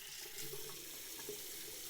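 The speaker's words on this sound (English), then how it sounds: "I'm usually just rinsing my face with some cold water." Cold tap water runs steadily from a faucet into a bathroom sink while a man rinses his face, a continuous close splashing hiss with no talk.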